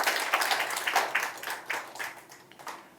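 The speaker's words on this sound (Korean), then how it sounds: "큰 박수로 맞이해 주시기 바랍니다" Clapping from a seminar audience greeting a speaker at a Korean academic seminar on Donguibogam herbs and traditional liquor. Short and moderately loud with uneven bursts, gradually thinning out toward the end.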